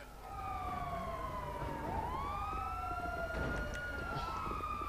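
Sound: police car siren in a video game

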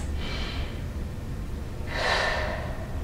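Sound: deep breathing during chair workout

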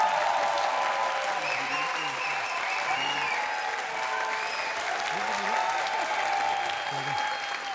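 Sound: TV studio audience applause

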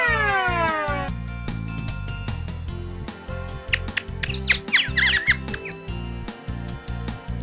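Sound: bird sound in a kids' listening game

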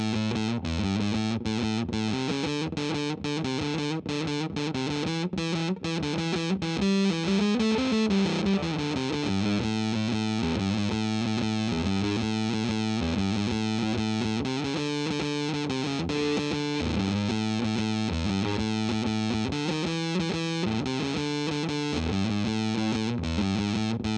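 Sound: bass guitar with electric guitar strings through fuzz pedal

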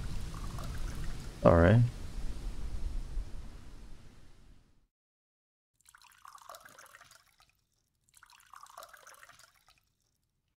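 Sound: water pouring while watering plants in video game Mon Bazou

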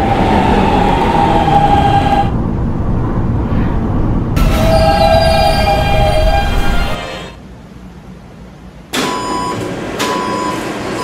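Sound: D subway train running, from Roblox video game PTA Subway

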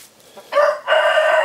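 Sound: chickens, a village hen and a Japanese hen

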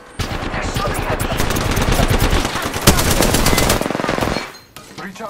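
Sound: gunfire in video game Apex Legends

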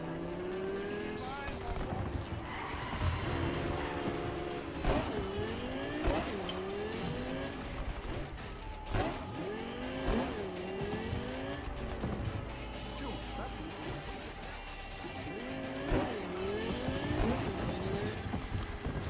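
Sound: car driving and skidding in Cyberpunk 2077 video game

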